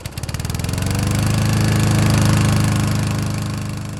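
Lawn mower engines run steadily at a cemetery cleanup, a loud close chugging drone with a regular pulsing beat that swells and holds throughout, no talk.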